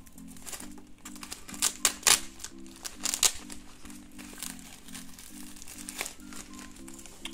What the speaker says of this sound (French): avec les bruits du scotch